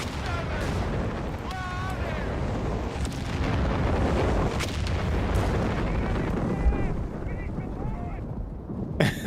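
Dense, continuous rumbling artillery fire and explosions from the video game Company of Heroes 3, with booms layered over one another throughout and commentators talking over the battle.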